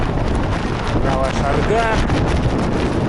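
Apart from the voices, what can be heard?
wind blowing against raincoat on bicycle trip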